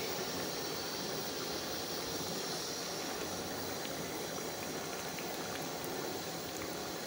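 Steam hisses loudly and continuously from an opened cooking pot of a traditional homemade rawaan dish, forming a dense, unbroken rush with no talking.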